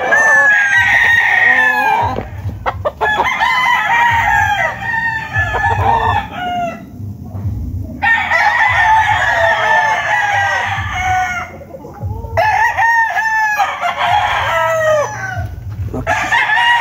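Young gamefowl roosters (stags) crow again and again nearby, loud repeated cock-a-doodle-doo calls with short pauses between them, and low clucking underneath.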